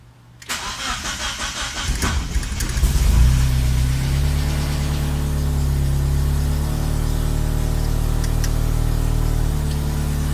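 A Mazda Miata running Megasquirt engine management cranks and fires, then settles into a steady, loud idle that holds close up, with no one talking.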